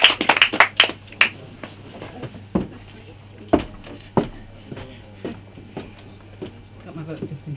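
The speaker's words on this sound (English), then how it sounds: "A round of applause for Francess," Sparse audience clapping for a poet at a spoken-word open mic night, a few loud close claps at the start thinning to scattered single claps, with people talking and shuffling in the room.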